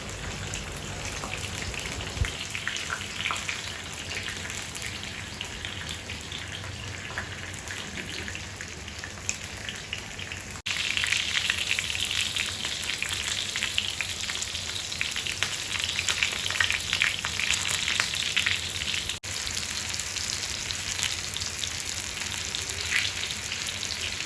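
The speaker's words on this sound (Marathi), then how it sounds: "कापलेले आंबे घेतलेले आहेत मँगो चटणी बनवण्यासाठी चांगले फ्राय करून घ्यायचे" Cut mangoes fry in a pan for mango chutney, giving a steady, dense sizzle that crackles continuously throughout and grows slightly louder partway through, with no talking.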